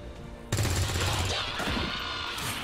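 Heavy burst of automatic gunfire from an XCOM 2 squad soldier in a tactical strategy game, a dense, loud volley lasting a couple of seconds after a brief quiet lead-in.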